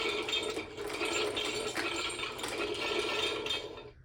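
Fingers of a Marvel Legends Infinity Gauntlet toy flex with a dense, continuous mechanical ratcheting and clicking, close and fairly quiet, stopping abruptly at the end.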